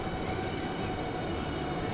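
An ICE3 high-speed train passes in the Transport Fever 2 railway game, a steady, loud rolling rumble with a broad hiss that holds evenly throughout, with no talking.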